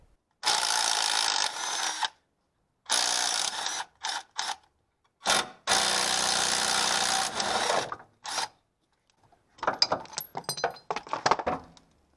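A power tool buzzes in several bursts as it spins out the 15mm bolts holding the alternator bracket on a Dodge Neon engine, with short pauses between runs and a rapid ratcheting rattle near the end.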